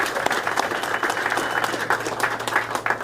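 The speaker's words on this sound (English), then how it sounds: "Give yourself a round of applause, man." A crowd claps continuously after a big home win, a moderate, even patter of many hands with small swells and no clear talk over it.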